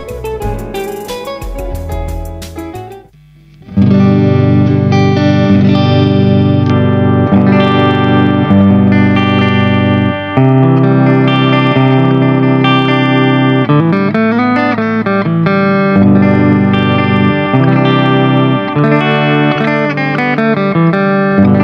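An electric guitar plays a riff through a Tank-G multi-effects pedal, distorted and chorused with reverb, loud and continuous after a brief opening strum.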